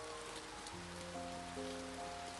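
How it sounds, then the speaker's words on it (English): Gentle rain falls in London as a soft, even patter of drops, heard alongside sustained soft musical tones that enter partway through, with no voices. "It is a very gentle sound, like the rain is knocking softly, saying hello to London."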